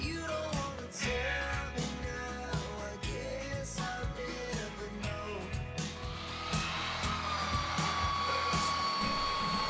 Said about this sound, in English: For the outside, I was able to use the belt sander.